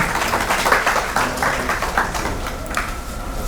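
Audience applause greeting ustads at a live Punjabi classical music program, a dense steady wash of clapping from a crowd, fairly loud and continuous throughout with no voices over it.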